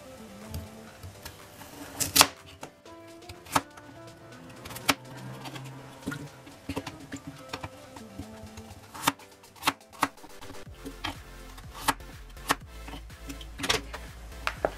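A knife roughly cuts deep-fried tofu (aburaage) on a cutting board, with irregular, close, sharp taps spread through the clip over faint background clatter.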